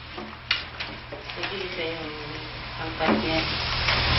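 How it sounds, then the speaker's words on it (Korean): Steamed sweet potato and glutinous rice dough, rolled thin and dried, sizzles and crackles in hot oil with a steady, close bubbling, while a voice talks over it. "우선 고구마와 찹쌀을 함께 쪄서 얇게 밀어 하루를 두었다가 기름에 튀겨냅니다"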